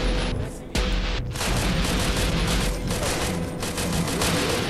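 A pistol fires in a video game amid a dense, loud barrage of rapid shots and booming blasts that runs without a break.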